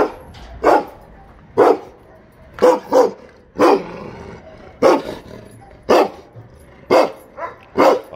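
A dangerous dog barks in loud, separate bursts, about a dozen deep woofs spaced roughly a second apart, some coming in quick pairs, close by and clear with a little background noise between them.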